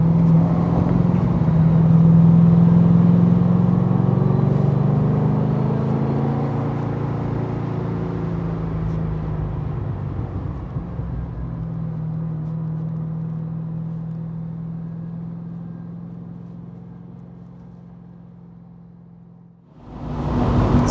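A 525hp LS3 V8 swapped into an ND Mazda Miata drones loudly, with low engine harmonics sweeping as the throttle opens and the car accelerates, then the tone settles into a steady run before a sharp cut near the end.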